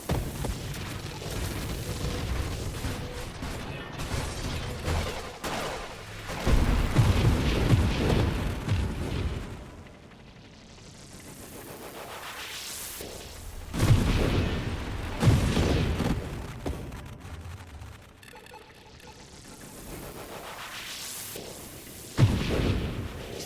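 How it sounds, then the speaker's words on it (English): Deep booming explosions from a video game erupt in several big swells, each a heavy rumbling blast that fades into a long roaring tail before the next one. "That has to be the most beautiful explosion ever"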